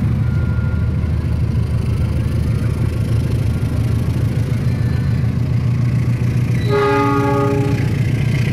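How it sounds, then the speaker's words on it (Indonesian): A train rumbles steadily past at Cisarua station near Bogor, loud and close, with its horn sounding a brief tonal blast near the end over the continuous rolling noise. "setelah tadi bersilang dengan kereta api luar biasa"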